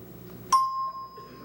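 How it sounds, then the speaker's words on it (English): A bright electronic chime from a 1977 Double Dare game show rings out once, sharp at the onset and then holding a clear sustained tone that fades under quiet studio background. "You can peek when you hear the chime."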